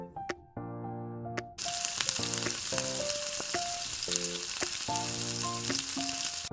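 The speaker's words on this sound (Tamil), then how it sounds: "இப்போ ஒரு தவால கொஞ்சமாக ஆயில் சேர்த்துட்டு ஆனியன் ரிங்ஸ் எல்லாம் அரேஞ்ச் பண்ணிட்டு ஒவ்வொரு ரிங்லையும் எக் மிக்சரை" Onion rings filled with egg mixture sizzle in a little oil on a hot tawa, a loud steady crackle that begins abruptly and runs continuously over a plucked tonal melody.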